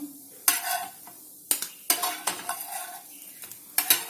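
Crispy snacks frying slowly in a pan give a soft sizzle broken by several sharp, close scrapes and clatters of a utensil against the pan, with no voices.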